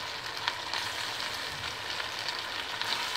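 Rice onion pakoda frying in a pan of oil over a low flame, giving a steady, dense sizzle with small crackles throughout and no voices.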